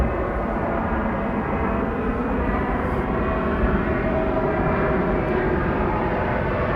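Fixed-wing airplane passing high overhead, a steady low roar that fills the background evenly without rising or fading.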